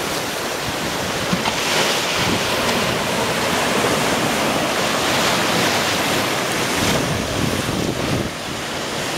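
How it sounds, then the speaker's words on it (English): Ocean waves roll in at the shore at sunset, a loud, steady wash of surf with gusting wind on the microphone and no voices. "The sound of the waves is very soothing."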